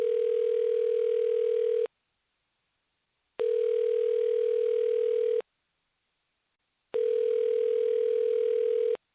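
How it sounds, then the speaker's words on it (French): A phone rings in a steady pattern of long electronic tones, each about two seconds long and separated by equal gaps of silence, clear and close with no voices. "Petit téléphone qui sonne."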